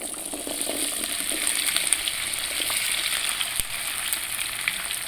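Fresh okra frying in ghee in a pan, a loud, even hiss of sizzling fat held steady at close range with occasional small pops and one sharp clink.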